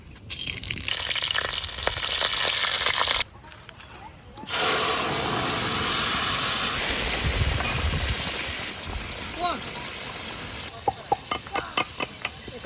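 Cumin, dried chili and bay leaf frying in hot oil, a loud steady sizzle with stirring, which then eases to a softer hiss broken by a few sharp utensil clinks near the end.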